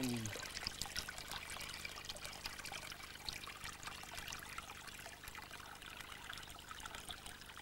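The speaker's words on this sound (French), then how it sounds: "Et on va calculer en combien de temps le seau va se remplir. Il y a un bon débit quand même." Water runs steadily into a 10-litre bucket, a faint, continuous trickling pour heard close by with no voices over it.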